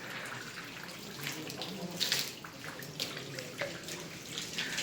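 Water is sprayed onto mushrooms in a humid growing room, a steady broadband hissing spray with brief louder spurts, close and moderately quiet.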